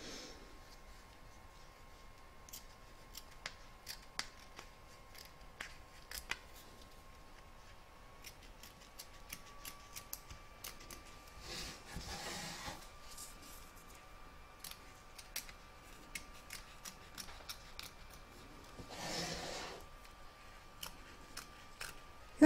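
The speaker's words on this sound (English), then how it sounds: "You're now going to trim up the excess fabric from both the front and the back" Scissors trim excess fabric from an in-the-hoop vintage witch's boot embroidery: quiet, sparse snips and small ticking clicks over a faint steady hum, with two slightly fuller cutting bursts.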